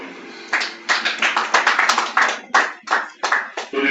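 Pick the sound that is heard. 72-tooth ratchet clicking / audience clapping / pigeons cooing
audience clapping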